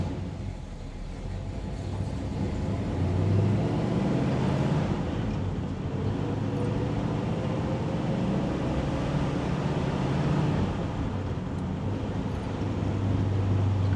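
A 1971 Chevelle SS with a big-block V8 and four-speed manual pulls away in first gear, its engine a low steady rumble that rises and holds from inside the cabin, fairly subdued with no talking.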